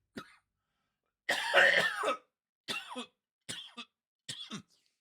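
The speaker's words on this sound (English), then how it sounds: "Still a little bit of that lingering cough" Several coughs close by: one faint, then a long harsh coughing fit, followed by three shorter throaty coughs spaced apart, with silence between.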